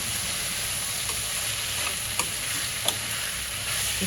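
Dried prawns being stir-fried in a pan for brinjal pulao, with a constant loud sizzle and a couple of sharp clicks of a utensil against the pan.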